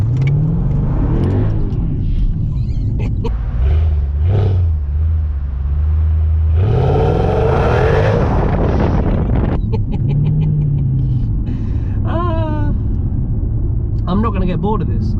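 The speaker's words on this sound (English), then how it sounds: "Actually, no, we'll do a burnout." A Mercedes CLS55 AMG with traction control off doing a burnout, its engine revving loud and close with a rising roar in the middle and tyre noise, while people talk over it.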